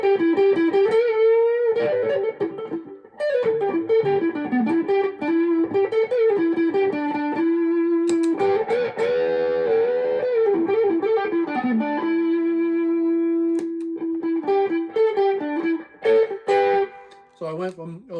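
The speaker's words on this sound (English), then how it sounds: "this is just the overdrive" An electric guitar played through an amp's overdrive channel with reverb rings out in sustained, distorted melodic lines and held notes, loud and close throughout.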